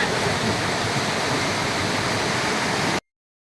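Continuous rushing of a flowing river, loud and even, cutting off abruptly after three seconds.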